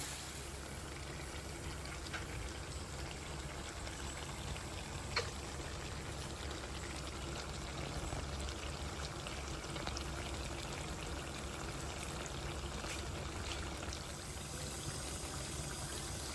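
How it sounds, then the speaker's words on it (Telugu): Soaked tamarind juice pours into a village-style fish curry as it heats, a soft steady liquid rush with faint bubbling that runs evenly throughout at low level. "ముందుగా నానబెట్టుకుని చింతపండు రసం ఎంత పులుసు కావాలో అంత వేసుకోనండి"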